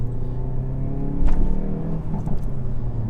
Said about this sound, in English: we've got the pops from the exhaust, Mark III Focus RS style